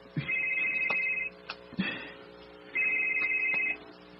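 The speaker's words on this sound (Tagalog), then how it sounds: "Dawat aking cellphone." A cellphone rings with two clear bursts of a steady electronic ringtone, separated by a short gap, with faint rustling and knocks in between.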